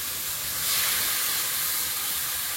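Tomato going into a pan of lightly fried onion and ginger-garlic paste, a steady loud sizzling hiss that swells briefly and stays close and constant, with no talking.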